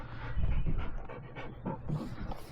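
A dog pants heavily up close with faint whimpers inside a Ford Maverick pickup, breathing in uneven bursts without talk.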